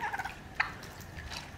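A turkey gobbles in quick bursts, a short rattling call repeated a few times, moderately close with faint background noise.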